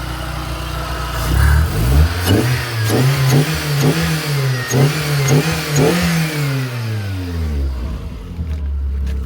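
Close, loud engine of a VAZ Priora 16-valve car, just after cylinder head repair, running and being revved several times in a row, pitch rising and falling before settling back toward idle.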